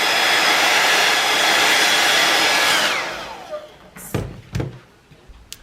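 A hair dryer blows steadily on watercolour paint drips, a loud close whooshing drone that winds down partway through, followed by a few sharp knocks and thuds.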